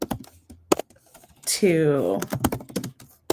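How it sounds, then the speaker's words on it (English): Fast clicking keystrokes on a computer keyboard, close and distinct, with a brief spoken word breaking in midway before the typing resumes. "I'll go ahead and type it in the comments"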